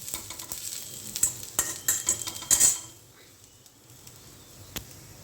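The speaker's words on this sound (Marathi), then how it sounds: "आणि आता हे छान परतून घेणार." A spatula scrapes and clinks in a pan while tomato and grated coconut masala sizzles, giving a run of close, sharp metallic scrapes that stop partway, leaving only a faint sizzle and one later tap.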